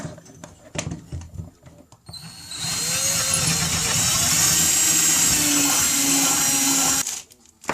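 A power drill widens a bolt hole with a steady, loud whine that runs for about four and a half seconds, after some softer handling clatter and before an abrupt stop.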